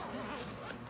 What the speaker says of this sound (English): Nice quality zippers.